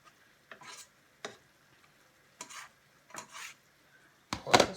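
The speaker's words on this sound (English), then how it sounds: "I've got the mushrooms cooking." Mushrooms cook in a pan, heard as a few separate scrapes and clinks of a utensil stirring them, each followed by near silence, ending in a louder burst of scraping.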